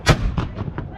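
Cannon fire at a pirate ship battle reenactment during a pirate festival in Conwy: a single sharp boom followed by a few rapid rolling echoes, fairly close, lasting about a second.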